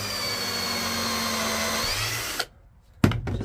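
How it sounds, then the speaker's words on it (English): A power drill spins a countersinking bit, giving a steady high whirring for about two and a half seconds. It stops abruptly, and after a short silence there is a brief burst of noise. "It's a countersinking bit."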